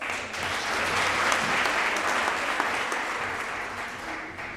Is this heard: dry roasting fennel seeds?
no